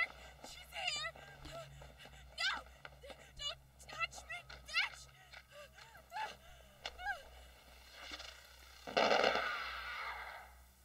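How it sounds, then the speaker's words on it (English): Flares fired like fireworks in the horror video game Crimson Snow, a loud crackling, hissing burst late in the clip following a stretch of talk with honk-like game sounds. "Okay, she's afraid of fireworks."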